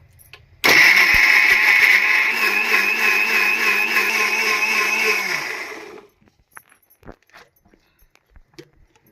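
An electric mixer grinder whirs loudly as it grinds spices with water into a paste for chicken fry, starting abruptly, running steadily for about five seconds, then cutting off, followed by faint clicks and handling noises.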